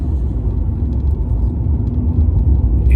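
Alfa Romeo 156 with a warmed-up 2.5 V6 engine, running steadily and heard as a low, continuous rumble from inside the car on the move, with no talk over it.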